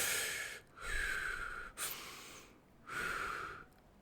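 A person demonstrates short, fast breathing: three or four quick, forceful breaths through the nose and mouth in a sniffing, snorting rhythm, heard close and alone with brief pauses between.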